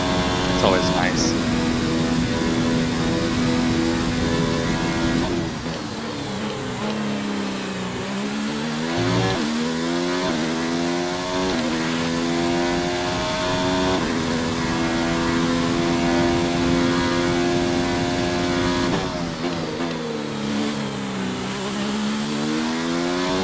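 A racing car engine in an F1 video game at Monza screams at high revs, with tonal sweeps as it shifts and brakes then climbs again, loud and continuous throughout while a voice talks over it.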